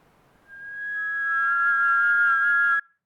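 A single sustained whistled tone with a slight overtone, starting softly and holding steady for a couple of seconds before cutting off abruptly.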